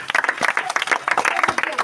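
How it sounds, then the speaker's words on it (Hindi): A group of children claps hands at a swimming training workshop in Kahalgaon, Bihar, a quick series of loud, close, sharp claps in an uneven rhythm, with voices calling out over them. "ताली मारो"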